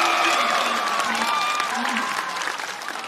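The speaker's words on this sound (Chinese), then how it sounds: "那我们掌声欢迎彭昱畅" A studio audience at a stand-up comedy show claps loudly to welcome a guest onto the stage, a steady, full applause that eases slightly toward the end, with voices faintly mixed in.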